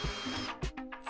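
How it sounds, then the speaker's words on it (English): A power drill with a 3.5mm bit bores holes in a Milwaukee Packout modification, its motor whirring in short, uneven bursts up close. "Now that we've got our marks, we just need to drill our holes."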